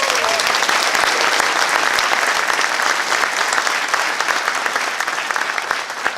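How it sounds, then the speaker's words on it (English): Sustained audience applause fills a fire rescue promotional and award ceremony hall, dense steady clapping that holds loud throughout and tapers slightly near the end. "Big round of applause for Black Pearl Pipe and Drums."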